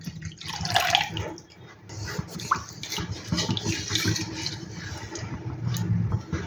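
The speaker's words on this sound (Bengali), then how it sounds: "এরপর আমি দিয়ে দেব ছোলা সিদ্ধ জলটা, যেটা আগে থেকেই করে রেখেছিলাম।" Boiled chickpea water poured into a cooking pan for chana masala, a close, continuous splashing and gurgling pour with small drips and sizzles, running unbroken and with no speech.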